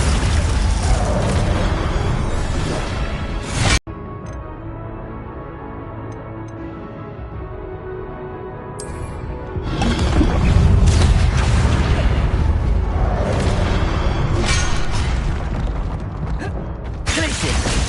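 Spell casting in Hogwarts Legacy: loud, dense game effects of booms, bursts and crackling magic that run almost continuously, with a brief dropout near four seconds before the blasts swell again.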